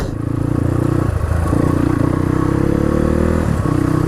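A 300cc CrossFire RM dirt bike engine revs steadily on a hillside dirt trail, a close, loud, buzzing drone that shifts pitch briefly near the end, with no talking.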